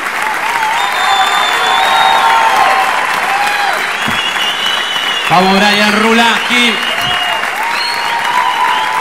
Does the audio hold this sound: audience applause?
yes